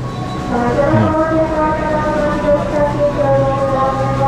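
An electric KRL commuter train pulls away from Grogol station, its motor whine rising in steady tonal layers over continuous rolling rumble, loud and close throughout.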